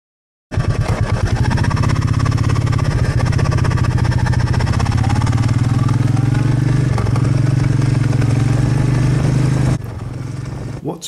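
A Royal Enfield Meteor 350 motorcycle engine runs loud and close with a steady thumping, chugging note that holds for about nine seconds before abruptly dropping to a quieter rumble.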